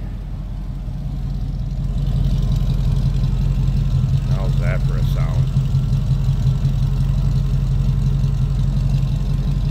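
A 1962 Ford Thunderbird's 390 V8 idles steadily with a deep rumble, its low burble from the bellflower exhaust pipes filling the clip, with a voice speaking briefly over it midway.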